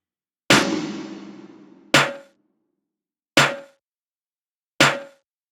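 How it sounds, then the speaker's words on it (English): A big snare drum in an industrial hip-hop beat struck four times alone, the first hit washing out into a long reverb tail and the later hits decaying more quickly. "there's a big snare that just washes out under a bunch of reverb"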